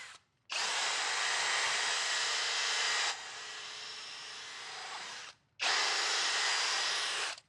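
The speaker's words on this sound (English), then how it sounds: "I've also got this drill here" A two-speed power drill spins a polishing pad against a metal wheel, with a loud steady whine that drops in pitch partway through, stops briefly, then starts again at the higher speed, with no talking.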